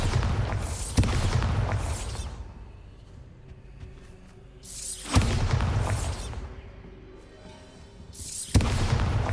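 Three loud booming blasts from the Bombarda exploding spell in Hogwarts Legacy, set in a Hogsmeade shop, each a sharp burst followed by a rumbling, fading tail, spaced a few seconds apart with no voices.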